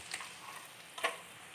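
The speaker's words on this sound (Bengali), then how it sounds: "এবার আরও একটু আমি ফ্রাই করে নেব আদা রসুনের কাঁচা গন্ধটা চলে যাওয়ার জন্য।" Ginger garlic paste frying with onions in a pan, a faint steady sizzle with a brief louder stir-like burst near the end.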